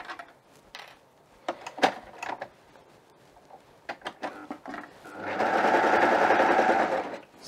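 A sewing machine stitches a seam on a wrap romper with a twill tab, running in a loud steady burst for about two seconds near the end after scattered clicks and handling noises of fabric being positioned.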